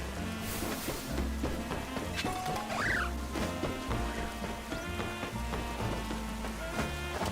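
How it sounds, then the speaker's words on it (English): Game music plays steadily in Final Fantasy XIV while a bird gives a brief squawk partway through, with light patter and small effects around it. "I hear birds making a fuss."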